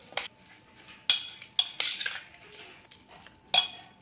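Spoon scraping and clinking against a bowl while mixing star fruit masala with kasundi mustard sauce and salt, several irregular metallic taps and scrapes, close and clear with no talk.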